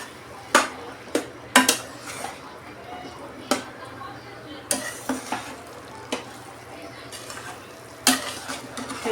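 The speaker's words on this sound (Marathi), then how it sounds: "हे आपण छान मिक्स करून घेऊया." Spoon repeatedly scrapes and clanks against a pan while okra curry masala is stirred and mixed, sharp irregular knocks over a low steady sizzle, fairly close.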